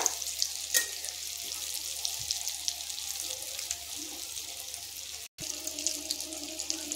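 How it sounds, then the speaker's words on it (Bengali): Potato pakoras fry in hot oil with a steady bright hiss and crackle, close and even throughout, with one brief dropout near the end. "তো এই পকোড়াগুলো ভাজা চলছে"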